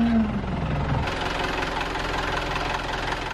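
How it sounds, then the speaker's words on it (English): A 1965 sailboat's engine, just after an oil change, cranks with a falling whine and then catches into a steady, rough, knocking idle that stays loud and close, with no talking. "So now we're going to start the engine."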